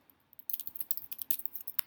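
Computer mouse clicks on an on-screen swap button, heard as a quick, close run of light, crisp ticks after a brief quiet moment.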